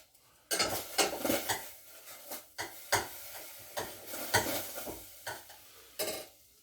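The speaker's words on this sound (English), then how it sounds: "Just let them simmer now. Mix them up." Beans simmering in a pot are stirred with a metal utensil that scrapes and clinks against the pot sides in irregular knocks and strokes, close and fairly loud over a faint bubbling sizzle, with no talking.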